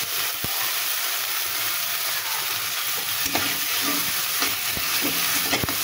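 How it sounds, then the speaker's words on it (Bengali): A spice mixture with turmeric and salt is stir-fried in a pan, a steady close sizzle with occasional scraping and stirring knocks throughout. "মশলাটা ভালো করে একটু নাড়া নাড়া দিয়ে ভেজে নিতে হবে।"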